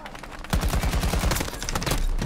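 Rapid automatic gunfire from a low-recoil weapon in Battlefield 2042, loud and close, bursts of shots in quick rhythm after a brief quieter lead-in.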